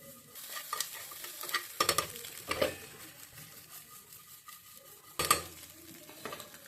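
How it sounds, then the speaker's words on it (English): Egg fried rice is stirred and tossed in a pan over a high flame, with soft sizzling under bursts of metallic scraping and clatter from the spatula and pan. "Now increase the flame and let's toss it."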